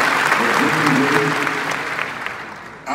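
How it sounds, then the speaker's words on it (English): An audience at a Christians United for Israel gathering claps loudly and continuously, the dense applause fading slightly before cutting off near the end, with a voice briefly emerging. "You can applaud that."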